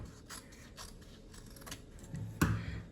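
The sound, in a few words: scissors cutting fabric for a sleeve pattern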